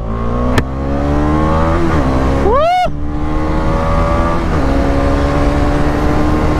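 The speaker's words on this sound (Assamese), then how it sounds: "দেখাই পাইছে এক্সিলেৰেশ্যনটো কেনেকুৱা হৈ গৈছে বাইকখনৰ" Motorcycle engine under hard acceleration on a rough road, a loud steady roar with rising harmonics, brief whooshing pass-by sweep midway, continuous and close throughout.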